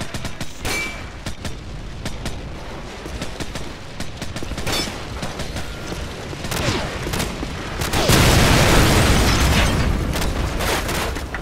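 An RPG explodes in a Call of Duty battle amid constant crackling rifle fire, then a heavy, loud boom with a sustained roar rises over the ongoing shooting near the end.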